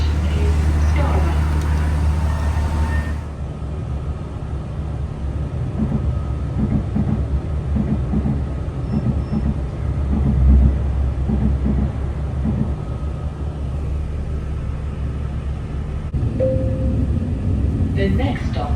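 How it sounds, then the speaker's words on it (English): Another train roars past in Northern Ireland on the line near Points Pass, heard from aboard a Belfast Grand Central service: a loud, steady rumble swells in after a few seconds and holds throughout, with people talking over it. "There comes another train."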